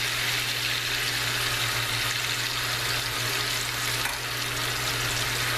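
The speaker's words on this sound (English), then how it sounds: "I'm just going to slowly add some of the sauce with some of the onion and deglaze that pan a little bit" Sauce and onion poured into a hot pot-roast pan sizzle steadily as the pan is deglazed for gravy, a dense, even hiss that stays loud and close throughout, with no talking.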